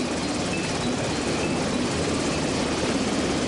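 A LAMPS Mark III Seahawk helicopter working from an Aegis cruiser, heard as a steady, loud rotor and engine drone that holds even and unbroken throughout, with no voices over it.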